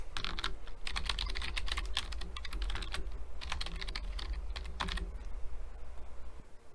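Bursts of quick, close keystrokes on a computer keyboard entering a verification code and password, with brief pauses between runs and no talking.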